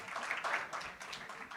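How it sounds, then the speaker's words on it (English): Applause from an audience at a certificate ceremony for a hot runner systems course, with a steady, fairly faint patter of clapping running through the whole clip. "Give a big applause."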